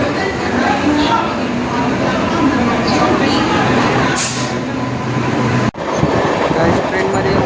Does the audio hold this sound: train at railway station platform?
yes